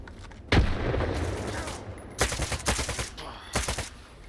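Gunshots and short automatic bursts from Stalker 2 come in three separate clusters with quiet gaps between them, loud and near, with no speech.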